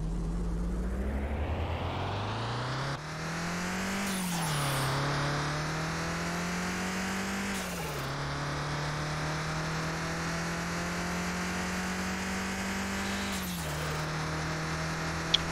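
A turbocharged Nissan Silvia S15 engine in the video game Car Mechanic Simulator 2021 revs steadily and loudly on a track, with pitch rising and dropping at gear shifts and a faint turbo whine over the drone.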